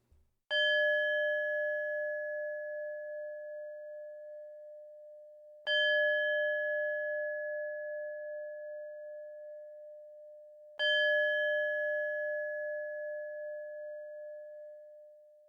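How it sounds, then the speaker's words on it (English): A singing bowl is struck three times at even intervals, each chime ringing out clear and pure and then fading slowly in a quiet room. "I'll ring my singing bowl"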